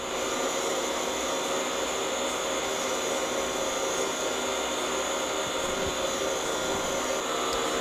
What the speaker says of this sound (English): Run LL pump. This process should take around 8 minutes.